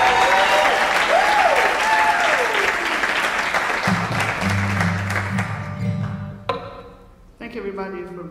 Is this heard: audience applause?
yes